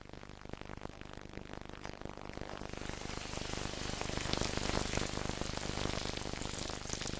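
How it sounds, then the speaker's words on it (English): Oatmeal-coated herring fries in hot lard in a pan, a soft crackling sizzle that swells gradually louder and stays dense and steady. "in Scotland, they always traditionally fry herring in oatmeal in lard"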